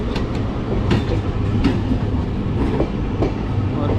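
A MEMU passenger train pulls into Bardhaman Junction on a parallel track, with close rhythmic clickety-clack of wheels over rail joints and metallic rattling throughout.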